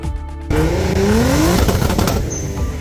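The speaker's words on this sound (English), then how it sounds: "Hearing a car zoom down the street while backfiring super loud definitely gets you to turn your head" A tuned car zooms down a street, its engine pitch rising loudly as it accelerates past and then fading, with sharp cracks and squeals mixed in.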